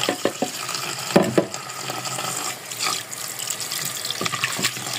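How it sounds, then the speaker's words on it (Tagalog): Leaves are washed under a running tap, with splashing water and hands rubbing through them in bursts, close by and fairly soft, without any talking. "Hugasan na natin yung mayas."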